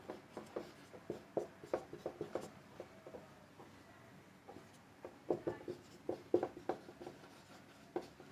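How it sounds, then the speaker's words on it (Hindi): Someone writes a chemical reaction on a board in quick, faint taps and scratchy strokes that come in short bursts, with brief pauses between words. "मैं रिएक्शन लिखता हूं।"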